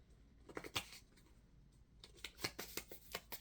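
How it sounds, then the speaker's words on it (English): Deck of cards being shuffled by hand, soft close riffling bursts in two short clusters separated by a quiet pause, faint and intimate with no talking. "I need to shuffle this differently than other decks."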